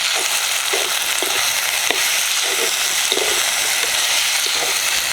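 Breadfruit and dried shrimp thoran, seasoned with salt and green chillies, sizzles loudly and steadily in a pan, with scattered soft scrapes and taps from a spatula stirring through it.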